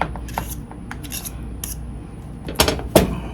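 A fork mixing egg salad in a bowl, producing soft close scraping and clinking against the bowl in irregular strokes, with two sharper knocks near the end and no talking.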